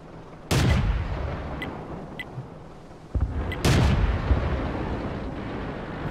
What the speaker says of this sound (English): Shoot behind, you may be able to shoot him.